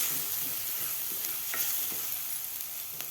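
Spice paste (vatan) for Mumbai-style vada pav sautéing in a pan, a steady close sizzle with soft scraping stirs every second or so.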